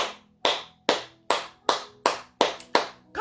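Steady rhythmic hand clapping, about eight loud, evenly spaced claps, close and alone with no talk, at a church worship gathering.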